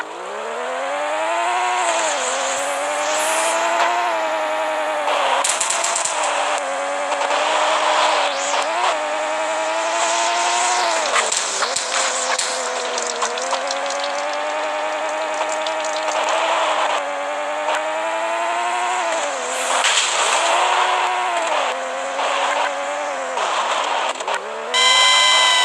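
A stolen taxi in the Payback 2 video game drives hard through a city, its engine revving up and down continuously with rising and falling pitch, tire squeals and skids breaking in repeatedly, loud and unbroken throughout.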